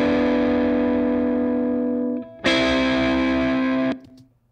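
A distorted electric guitar part from a film scoring cue, with heavy effects processing, ringing out in a loud sustained chord that briefly dips, strikes again and then cuts off abruptly near the end.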